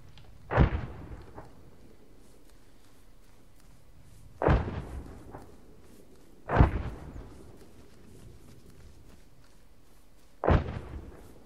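Artillery strike in the video game ArmA: four separate distant booming explosions, each a sharp thud followed by a rolling decay, spaced a few seconds apart over quiet background.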